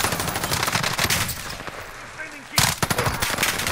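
Automatic gunfire from a firefight in Call of Duty Warzone on Rebirth Island, dense rapid bursts of shots with a brief lull before another loud volley, with faint voices in the mix.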